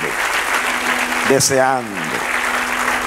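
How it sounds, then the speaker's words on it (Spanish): A church congregation applauds the Lord at the close of a sermon, with continuous clapping heard throughout while a voice calls out briefly in the middle over the applause. "Den un aplauso al Señor"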